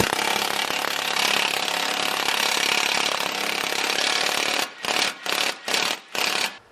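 Impact wrench on a lug nut over a freshly installed wheel stud of a B16-swapped EG hatch: a long steady whirring run, then four or five short sharp hammering bursts as the nut bottoms out, close and loud, no talk.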